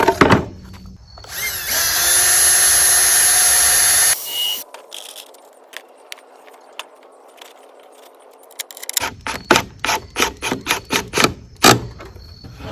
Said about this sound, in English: we got to drill the holes first, otherwise the screws will split it